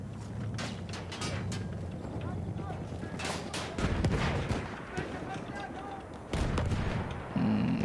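Shotgun fire in the video game Battlefield 1: heavy booming blasts over a dense, continuous battlefield din of distant gunfire and explosions, with a voice talking in the mix.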